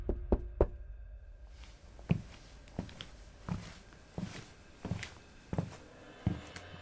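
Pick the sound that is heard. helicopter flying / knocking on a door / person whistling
knocking on a door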